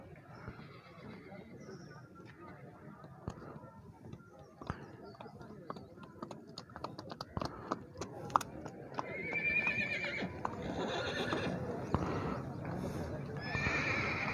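At a horse market in Tandla, a horse whinnies loudly while hooves clip-clop on hard ground. People talk over the hoofbeats and the calls, and the activity grows busier and closer toward the end.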